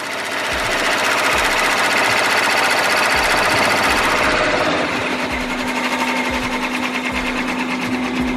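A longarm quilting machine runs together with a laser engraver, a loud steady mechanical clatter with rapid repeating stitch beats throughout, and the tone shifting partway as a lower hum joins in.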